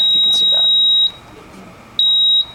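An electronic buzzer driven by a GPIO pin on a programmable logic circuit emits a steady, loud high-pitched tone, cuts out briefly near the middle, then sounds again in a short burst before stopping.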